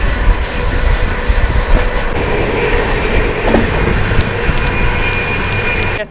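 The 12559 Shiv Ganga SF Express running between Banaras and New Delhi, a loud, steady rumble of wheels on rails with faint rhythmic clicking, heard close as the train moves at speed.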